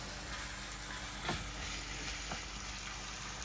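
Ground beef browns in a pan with A1 sauce and tomato paste, making a faint, even sizzle with a couple of soft stirring scrapes and no voices.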